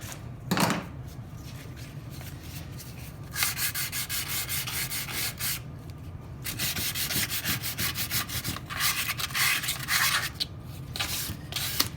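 Steady, close rubbing of sandpaper over a wooden toolbox being distressed, with a continuous rhythmic back-and-forth scratching broken by brief pauses and no talk.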